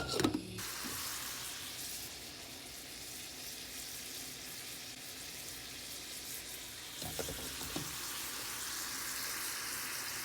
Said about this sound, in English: Here I am cooking up some ground sirloin with some onions